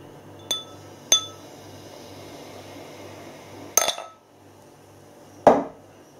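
A small snifter glass gives several sharp clinks and taps while a Swedish wheat beer is handled and poured, separated by quiet pauses.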